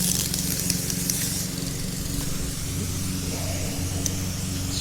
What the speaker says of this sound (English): I'll put this guy on mist.